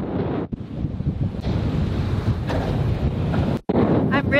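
Strong wind of 27 to 30 knots roars across the microphone on a heavily reefed sailboat at sea, with waves rushing and slapping the hull in loud continuous gusts and brief drops.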